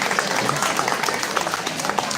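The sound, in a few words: audience round of applause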